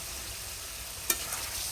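Washed, pre-fried chicken pieces go into oily, cooked-down spices in a pan, setting off a steady close sizzle with one sharp clatter as they land.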